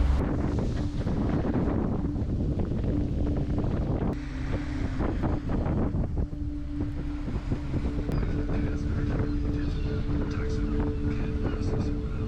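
A sailboat motors at sea near Ibiza under its engine, a low steady drone with water rush and heavy wind buffeting the microphone, continuous and fairly close, with a voice speaking at times.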